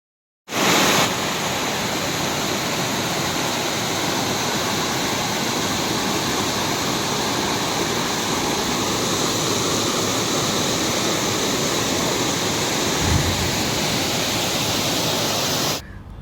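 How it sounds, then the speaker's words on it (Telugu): Kothapalli waterfall in the hills roars as a steady, loud, unbroken rush of falling water from start to finish, with no voices. "ఫైనలీ కొత్తపల్లి వాటర్ ఫాల్స్ దగ్గరికి అయితే వచ్చేసాం."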